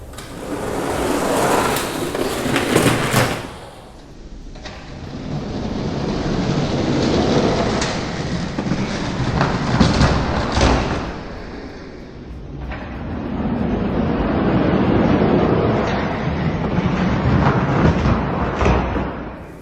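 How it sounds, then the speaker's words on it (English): Heavy rain pounding on toy cars and a trash can outdoors at a toy monster truck race track, a dense, loud, continuous patter with a few dips in intensity and rumbling low undertones. "all of that rain banging off of my cars and the trash can"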